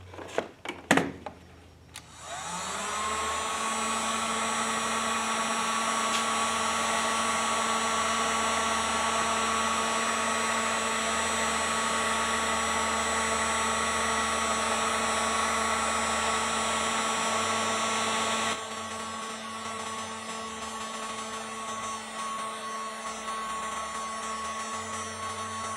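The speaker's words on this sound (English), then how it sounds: "Heat gun." A heat gun starting with clicks and then blowing hot air in a steady, loud whirring drone with a fixed fan tone, dropping to a lower, softer pitch partway through as its setting changes, with no talking.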